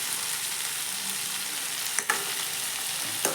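Potatoes frying in a pan are stirred, giving a steady soft sizzle and two sharp scraping clacks of the utensil against the pan, close and fairly quiet, with no talking.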